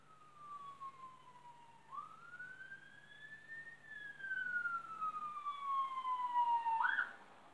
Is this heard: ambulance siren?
yes